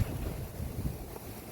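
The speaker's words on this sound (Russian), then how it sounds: "У нас ветер жестяк и туча черная." Strong storm wind blows steadily over the microphone in Kharkiv in November, a low, continuous rumbling gust with no talk, fairly quiet overall.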